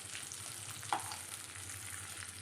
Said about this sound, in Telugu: ఈ విధంగా అటు ఇటు తిప్పుతూ ఫ్రై చేయాలండి